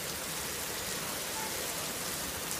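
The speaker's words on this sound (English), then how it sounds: "The rain's coming down like crazy." Heavy rain pours steadily during a thunderstorm, a dense, even hiss of countless drops on surfaces with no break, close and continuous.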